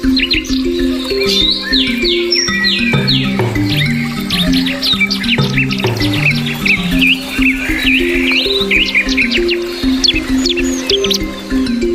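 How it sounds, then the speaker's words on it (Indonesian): Many birds chirp and trill at once in a dense forest chorus, with quick high tweets over lower, repeated warbling calls, steady throughout. "Suara kicauan burung menambah harmoninya pagi di hutan tropis pagi ini."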